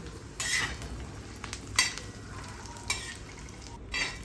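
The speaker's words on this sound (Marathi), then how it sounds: "मिरची, चणा डाळ, खोबरं, कांदा आपण हे भाजलेलं याच्यात एकत्र करून भाजून घेऊया।" Green chillies, chana dal, coconut and onion dry-roasting together in a pan, a soft steady crackle broken by several sharp scraping stirs of a spoon against the metal, close by with no talking.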